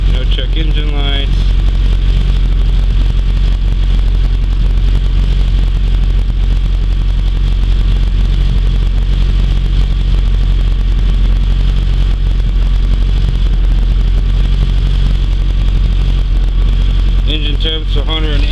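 A 400hp race Honda Civic engine idles loud and close on its first start-up of the season, a steady heavy drone with a few rev changes near the start and end, and a person speaks over it.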